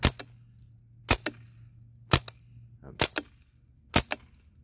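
A CO2 HK416 replica rifle fires five sharp shots on semi-auto, evenly spaced about a second apart, each crack followed by a quick second snap, with a faint low hum between shots.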